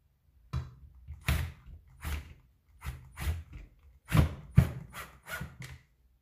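Screws are started into a turntable mount with short, rhythmic scraping turns, a series of close, dry bursts separated by brief pauses.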